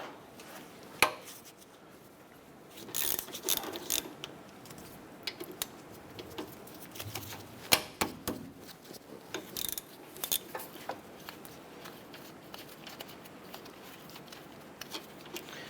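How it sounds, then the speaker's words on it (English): Brake caliper bolts on a 2008-2012 Honda Accord being loosened and spun out with a 12mm socket during a front brake pad job, giving scattered light metallic clicks and ratcheting ticks at close range, with no talk. "I'm going to go ahead and use our 12mm socket and remove our brake caliper bolts"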